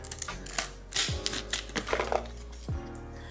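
Packaging on a Canon G7X Mark II camera box is cut open with a blade: a string of sharp, close clicks, snaps and scrapes in an uneven rhythm, with no talking.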